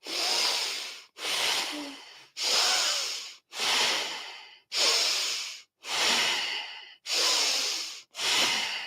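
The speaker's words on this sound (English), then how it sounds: "We begin through the nose on an inhale." Eight steady breaths, each a long airy rush through the nose, follow one another in a slow, even rhythm, close and clear against silence with short pauses between them.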